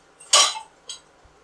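A metal lid clanks onto a boiling pot of aloo tahiri with a bright clatter, followed moments later by a smaller second clink.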